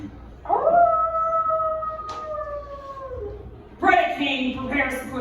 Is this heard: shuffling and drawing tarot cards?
no